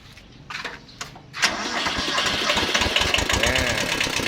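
A few clicks and a cranking sound, then a small Japanese-imported tractor engine catches and settles into a loud, rough, knocking idle close by.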